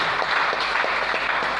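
A church congregation at a seminar applauds and acclaims the Lord, a dense, steady clapping crowd filling the room with no pauses.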